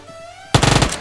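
An Uzi submachine gun fires in PUBG, a rapid close burst of about six or seven sharp shots in quick succession that breaks in suddenly after a quiet lead-in with a faint tone.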